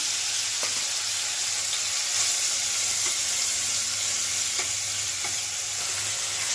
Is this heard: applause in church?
no